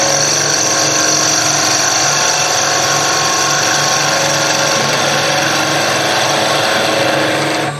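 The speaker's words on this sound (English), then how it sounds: "I'm going to now go to the planing cut that we've done before" A skew chisel makes a planing cut on wood spinning on a lathe, producing a loud, continuous hissing shear over the motor's steady hum from start to finish.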